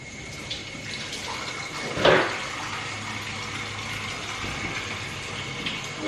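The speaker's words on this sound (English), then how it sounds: "I'm gonna wash my hands" Tap water runs steadily into a sink while hands are washed beneath it, with a brief louder splash partway through over a soft, continuous flow.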